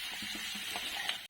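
Marinated chicken, salted during marinating, fries in a pan for a chicken dry fry, giving a steady close sizzle with soft stirring knocks throughout, no voices.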